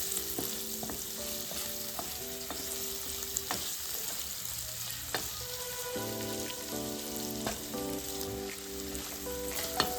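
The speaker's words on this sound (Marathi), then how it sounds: "हे जे सगळे जे डाईस आहेत पनीरचे प्रॉपर लेवलवरती मिक्स करून घ्यायचे" Diced paneer stirred with chili powder in a hot pan, a continuous sizzle under repeated scraping and clinking strokes of a spoon against the pan, close and fairly loud, no talking.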